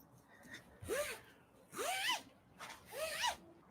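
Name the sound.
large zipper on backdrop being handled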